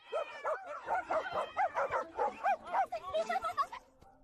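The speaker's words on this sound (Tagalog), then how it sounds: "Sige pa, lakasan niyo pa ang tahol at mew." Several dogs bark and yip in quick, busy succession, close and moderately loud, with whimpering, yappy calls running almost continuously before stopping abruptly.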